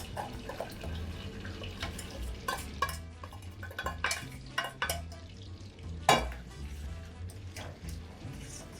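Melted butter and sugar stirred together in a pan over low heat for a tarte Tatin, giving soft scraping and sloshing strokes, quiet and close, with a few sharper clinks against the pan.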